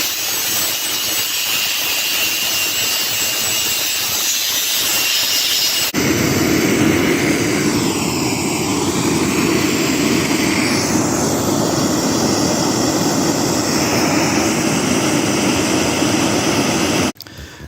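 A loud, steady power tool grinds through carriage bolts on a wheelbarrow. The harsh roar runs continuously, with a brief, different section before the main cut, then stops abruptly at the end.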